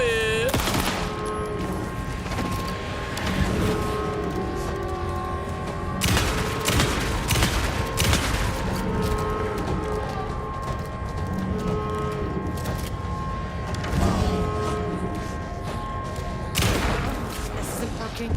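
Rapid gunfire from a magazine being emptied in the video game Alan Wake 2, bursts of dense repeated shots over several seconds mixed with game sounds, with a person talking over the shooting.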